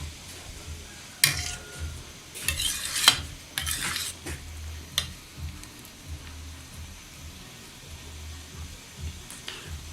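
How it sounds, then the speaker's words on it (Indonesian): A ground paste of shallot, garlic and candlenut is fried in a pan on a traditional wood stove, with soft sizzling under sharp scrapes and clinks of a utensil stirring in short bursts, fairly quiet overall. "Bumbunya tadi bawang merah, bawang putih, kemiri kita ulek, lalu kita gongso atau kita goreng dulu ya"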